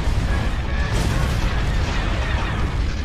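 Cannon fire and explosions in the space-battle game Star Wars: Empire at War, Forces of Corruption: a dense, continuous rumble of booms and blasts that stays loud throughout with no clear pauses.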